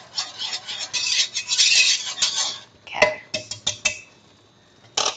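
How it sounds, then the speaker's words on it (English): A spoon scrapes and stirs coconut cookie dough in a bowl, with a busy run of rasping strokes followed by several separate clinking scrapes, close and fairly loud. "So maybe give it a few more stirs."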